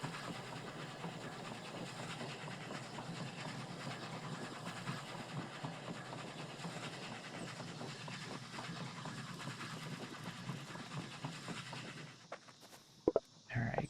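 A steady, low rumble of a train running in Oddsparks, with faint rhythmic clatter underneath. It ends in a few sharp clicks near the close.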